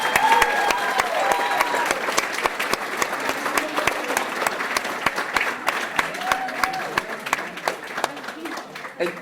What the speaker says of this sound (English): can everyone join me in a round of applause for everyone who participated?